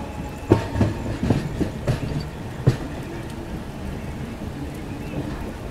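A Duranto Express train crossing a diamond crossing in continuous rain at Nagpur, with a run of irregular wheel clacks over the rails early on that settles into a steady rolling rumble.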